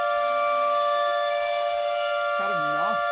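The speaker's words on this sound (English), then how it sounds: "I don't know if you can hear me above the air raid siren" An air raid siren drones steadily and loudly during the survival game Raft, holding a sustained wailing tone, with a brief voice near the end.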